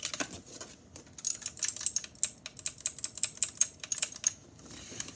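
Typing on an Asanity One mechanical keyboard: a quick, uneven run of crisp, close keystrokes, bunched in bursts with brief pauses, heard on its own without any talking.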